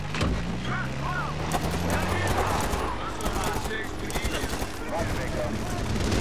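Dense, sustained gunfire from the Medal of Honor Warfighter video game, a continuous loud fusillade of rapid shots mixed with engine and vehicle noise, with a voice talking over it.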